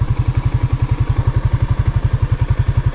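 A motorcycle idles close by as it is parked at the roadside, giving a steady, rapid low thumping with an even rhythm and no talk over it.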